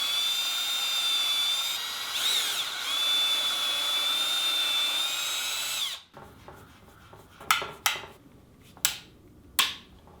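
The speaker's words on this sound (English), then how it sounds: "help guide the position of the ledger as I'm pre-drilling into the rail" A power drill whines steadily while pre-drilling screw holes into a cherry bed rail with clamped guide blocks, its tone shifting slightly, then stops; a few sharp wooden knocks or clicks follow.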